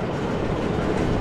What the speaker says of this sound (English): And yet they got a train going up.